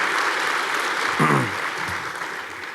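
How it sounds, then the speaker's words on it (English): Applause from the crowd at a graduation ceremony, a dense, sustained round of clapping with a brief voice rising over it partway through. "I think you all need a tremendous round of applause at this time"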